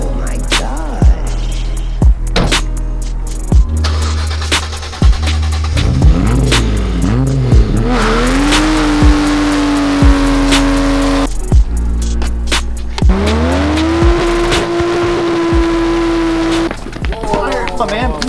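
A new car's engine revs in rising and falling bursts while its clutch burns, with sharp clicks and a droning pitch that climbs and holds, close and loud, under occasional voices.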